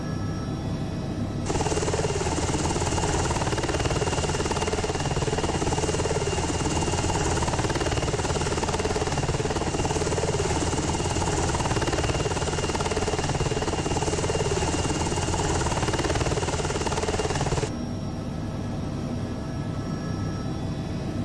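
A helicopter engine idles in a flight simulator game, a dense steady drone with a high whine that holds for most of the stretch before dropping off abruptly to a quieter hum near the end.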